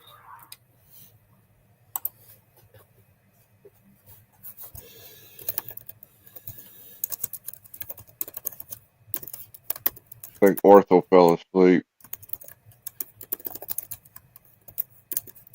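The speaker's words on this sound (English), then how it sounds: "Someone's typing up a storm." Rapid clicky keyboard typing patters along in bursts, with a brief spoken line from a person partway through.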